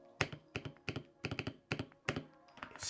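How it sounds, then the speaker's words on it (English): Typing on a 65% mechanical keyboard with Hall effect switches, close and clear: six or seven bursts of quick, deep, thocky keystrokes in an uneven rhythm with short pauses between, no talking. "That's a nice thocky sound"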